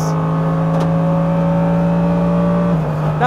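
A Mercedes-AMG GT3 race car accelerates at full power on track, its engine holding a loud, steady, high-pitched drone that rises slightly in pitch before a brief dip near the end as the next gear engages.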